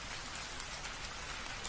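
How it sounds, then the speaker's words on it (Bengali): Heavy rain falls at night in a steady, dense hiss that holds even and unbroken throughout, with no voices or other sounds standing out. "চারিদিকে শুধু বৃষ্টির ঝমঝম শব্দ আর মাঝে মাঝে ব্যাঙের গ্যাঙর গ্যাঙর ডাক।"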